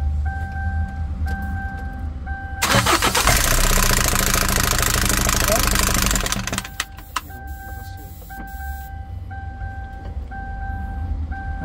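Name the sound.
car engine running with noisy timing chain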